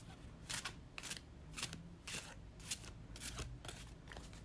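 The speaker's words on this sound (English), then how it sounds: "And shuffle with intention." Tarot cards shuffled by hand in a quiet room: about eight soft, quick riffling bursts in a steady rhythm, close but faint.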